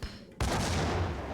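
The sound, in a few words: grenade explosion in a video game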